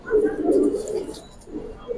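Giribaz pigeons coo in low, throaty murmurs that continue through a short stretch, close by, with some background voices.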